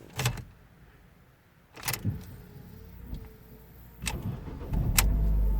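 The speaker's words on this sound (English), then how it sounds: "let's gonna try to start the car and see if it starts okay" A Ford Focus MK3 with multiple electrical faults: a few sharp clicks and clunks, then the engine cranks and catches near the end, settling into a steady, loud running rumble close by.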